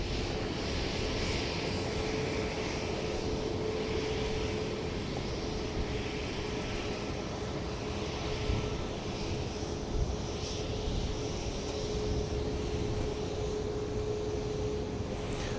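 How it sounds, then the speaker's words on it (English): A Southwest Airlines Boeing 737-700 departing Dallas Love Field produces a continuous engine rumble with a faint steady whine, even in level and moderately distant throughout, no voices. "the next plane out of the gate, Flight 52 to Lubbock, Texas, a 737-700"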